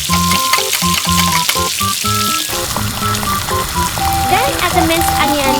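Jaggery melting in a hot pan gives a steady crackling sizzle throughout, close and fairly loud, under light background music.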